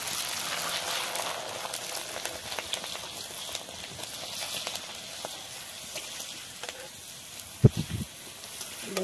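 Rice-flour papads frying in hot oil in a wok, a steady soft hiss and bubbling sizzle throughout, with a couple of louder pops near the end; no voices.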